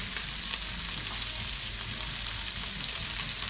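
Shrimp sautéing in a hot pan with garlic, a steady dense sizzle that runs unbroken and close throughout, with no voices.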